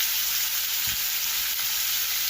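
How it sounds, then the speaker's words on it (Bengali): Potatoes frying in a pan with turmeric and salt, a steady close sizzle throughout with a couple of faint low knocks, no voices. "আলুটাকে লাল লাল করে ভেজে নিচ্ছি"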